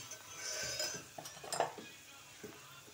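Quiet sautéing of chopped onion and dry spices (turmeric, chili powder, coriander powder) in a pan, with scattered light clinks of a spoon against metal and a faint sizzle between the strokes.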